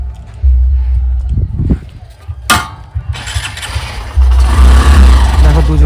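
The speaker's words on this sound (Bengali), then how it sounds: "চল বাইক স্টার্ট দে।" A motorbike engine cranking and catching, sputtering briefly before settling into a loud, close idle, with a sharp clank in the middle and a voice heard near the start.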